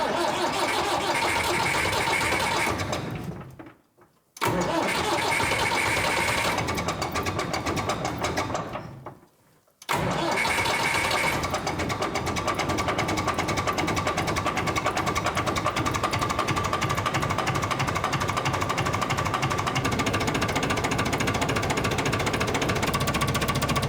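Diesel engine of a Massey Ferguson 165 tractor cranking and running with a rapid steady knock, cutting out twice after a few seconds before catching and idling loudly and evenly on its own.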